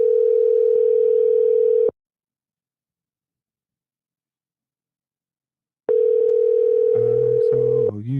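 A steady telephone tone drones for about two seconds after a dropped call, then cuts to silence. It returns loud and close, and a few lower warbling tones join it near the end.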